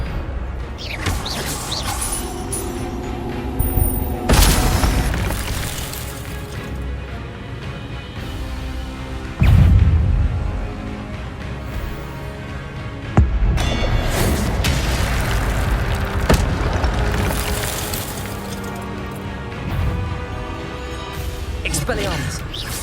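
Magic spell blasts from Expelliarmus in Hogwarts Legacy on PS5, several heavy booming impacts spaced seconds apart over a dense bed of game music and effects, with a voice calling out spells.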